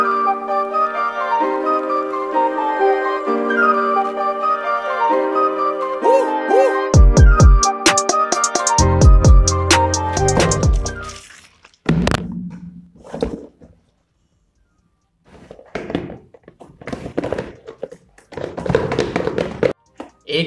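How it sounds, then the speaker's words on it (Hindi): An Amazon cardboard package sealed with tape is torn open after a stretch of music: close tapping, thumping and rustling tear sounds come in irregular bursts with short pauses. "अंदर इस बॉक्स की टेप खोल रखी है ऐसे करके"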